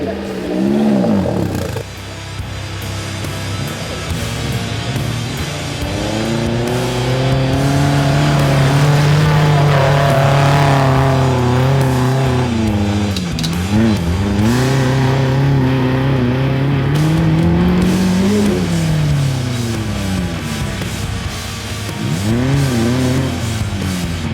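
An off-road vehicle with a faulty differential, its gearbox jumping out of gear, drives forward along a muddy trail at Lost Lake in North Wales, its engine loud and close, revving up and down steadily throughout.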